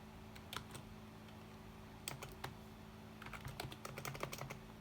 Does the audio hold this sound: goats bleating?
no